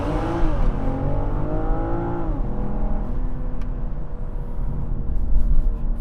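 A 2021 BMW M440i xDrive coupe launches hard from a standstill, its engine note climbing loud and steady through the gears with a brief shift break midway, heard from inside the cabin with no talk.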